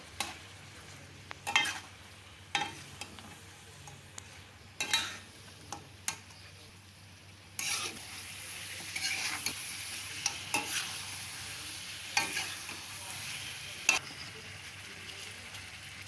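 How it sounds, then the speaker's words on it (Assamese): Spiced meat curry with garlic, ginger paste and salt is stirred in a sizzling pan, a spoon scraping in a few sharp strokes over a steady hiss that grows louder partway through, with no talking. "এইটো মই এতিয়া লাৰিম।"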